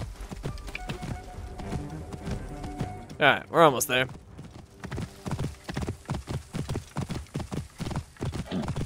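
A horse gallops in Assassin's Creed Origins on PS4, hooves clopping in a fast, steady rhythm close by, with a loud whinny partway through and someone talking over the hoofbeats.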